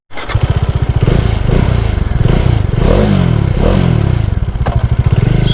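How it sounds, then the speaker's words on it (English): A 2018 or 2019 Bajaj Dominar motorcycle idling and blipping close by, its exhaust giving a deep, bassy, steady pulsing with a few sharp revs rising and falling, no voices. "So this newer Dominar has a much bassier tone to it."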